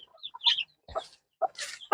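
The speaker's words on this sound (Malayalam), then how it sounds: "ഞാനിങ്ങനെ കോഴി കുഞ്ഞുങ്ങളെ വെച്ചിട്ട് ഇങ്ങനെ കൊത്തി കുടിപ്പിക്കും വെള്ളം" Brahma chicken chicks peep and cluck in short scattered bursts, close by and fairly quiet, with brief pauses between calls and no talk.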